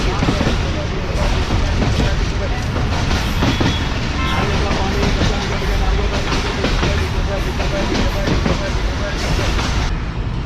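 Pakistan Express train rolling into Malir Colony railway station in Karachi, a loud, continuous rumble of wheels and rattling carriages heard from onboard, with a voice talking over it.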